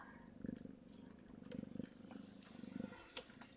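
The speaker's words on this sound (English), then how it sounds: "Are you gonna purr the whole time, Mama?" A mother cat purrs while nursing her newborn kittens, a soft, close, rhythmic rumble pulsing in steady breaths through the quiet.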